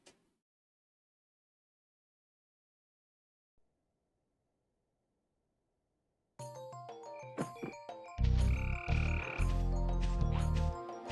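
Frogs croak in Spyro the Dragon, a cartoonish game effect arriving after long near-silence as a cluster of loud, bright croaks layered with chiming tones, close and busy toward the end.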